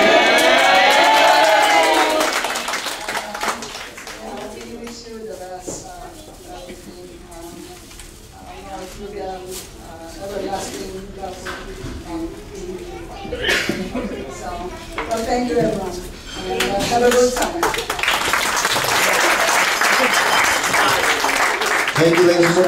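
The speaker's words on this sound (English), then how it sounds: "Big round of applause once again for Mr. and Mrs. Japlet" Wedding reception crowd in Honolulu applauding and cheering, a broad wash of clapping at the start and again swelling near the end, with talk and clinking dishes in the middle.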